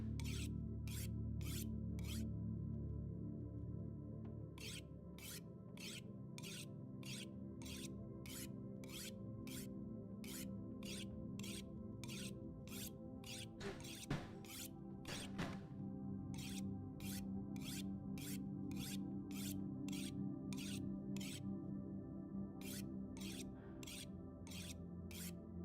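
Repeated rasping strokes of a blade drawn across a whetstone in the survival video game The Long Dark, in steady rhythmic bursts over a constant low ambient hum, with a brief louder scrape midway.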